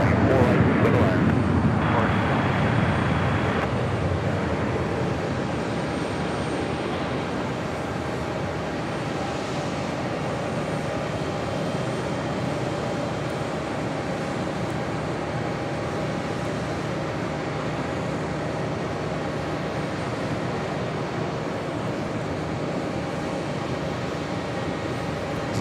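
An Air Europa Boeing 787-9 Dreamliner arrives on runway 4 right at JFK, its engine roar loud at first, then settling into a long, steady, distant rumble.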